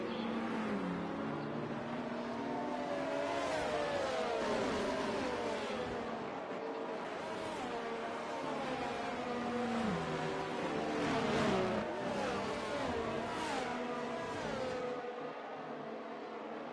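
Several race car engines in a racing game rev and accelerate together at a race restart in Canada, pitches climbing and shifting through gears, a steady loud roar with no talking.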